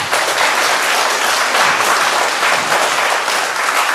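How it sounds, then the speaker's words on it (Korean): A church congregation applauds warmly in welcome during a Friday service, a thick, continuous wash of clapping that holds loud and even throughout. "박수로 한번 환영하시겠습니다"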